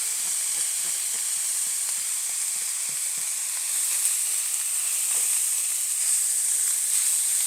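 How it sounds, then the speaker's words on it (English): Meat sizzles steadily in a hot skillet with garlic for a pizza casserole, a constant bright frying hiss with faint scattered pops and stirring clicks, close and loud, no talking. "Going to add the meat back to the skillet."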